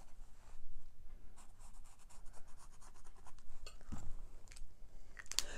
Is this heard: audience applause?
no